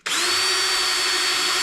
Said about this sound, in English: Now I'm gonna take my drill. I got a 1/4 inch drill bit.